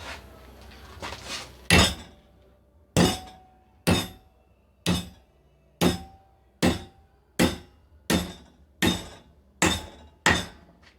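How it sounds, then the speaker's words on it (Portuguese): Hammer blows strike a welded steel sample during a bend test of the weld, about ten sharp metallic impacts at a steady rhythm, loud and close with short ringing decay and no talking. "Então vamos começar aqui esse dobramentozinho na marretinha e ver se a solda vai resistir sem trincar"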